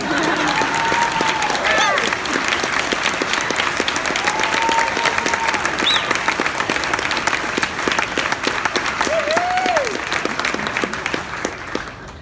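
An audience at a charity dinner claps steadily and loudly for twelve seconds, a dense wash of applause with a few whistles and light cheering mixed in.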